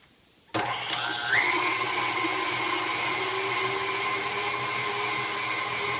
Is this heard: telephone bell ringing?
no